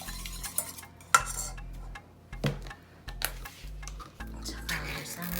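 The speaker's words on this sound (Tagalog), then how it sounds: "Haluin natin." A spoon stirring Brazo de Mercedes custard mixture in a bowl, giving irregular close clinks and scrapes against the dish with short pauses between strokes.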